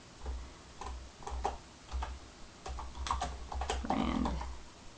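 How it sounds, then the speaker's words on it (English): Typing on a computer keyboard, with quick irregular clicks and taps in short bursts, close and fairly quiet, with a faint low thumping underneath. "So I'm going to type in average brand A, average brand B,"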